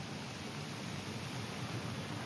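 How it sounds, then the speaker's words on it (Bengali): Heavy rain pouring in Kuala Lumpur, a dense, even broadband hiss of falling water with no breaks, faint and distant-sounding throughout, no voices. "প্রচন্ড বৃষ্টি হচ্ছে"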